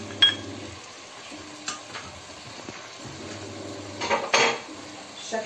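A utensil stirs half-cooked liver and gizzards with mashed garlic in a pan. There are several distinct metallic scrapes and clinks against the pan over a faint sizzle, close and moderately loud, with no talking.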